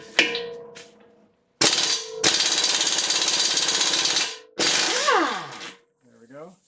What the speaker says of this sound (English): just going to work on getting that nut off.